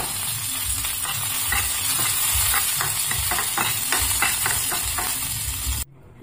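Mustard seeds, dried chillies and curry leaves sizzle and crackle steadily in hot oil for a chutney tempering, with stirring scrapes throughout before the sound stops abruptly near the end.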